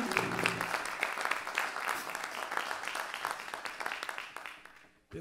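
Audience applause fills a jazz concert hall for the drummer, dense steady clapping throughout that fades out near the end, with a brief voice at the start.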